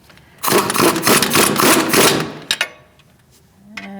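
A power tool tightens strut bolts on a 2016-2019 Chevrolet Cruze front strut and spring assembly, giving a loud, steady mechanical whir of about two seconds, then a few short bursts and a brief softer tone at the end.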